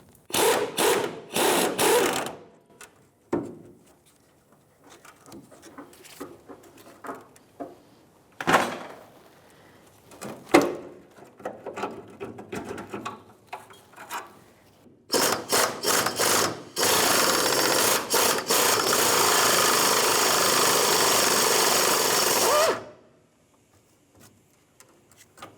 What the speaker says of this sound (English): a 1/2 inch wrench and a 15mm socket with my air gun trying to get these to break free